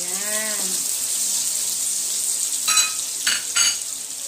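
Garlic and onion sizzling in reused pork-frying oil, a constant close hiss with brief stirring clatters and scrapes near the end; no voices.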